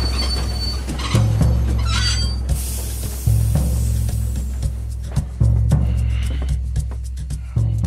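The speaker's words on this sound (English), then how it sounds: "like the most slowest train ever" Low rumbling video game train noise in Red Dead Redemption II, with a rhythmic clatter of wheels over rail joints repeating every second or two, plus faint squeals and hiss, no talking.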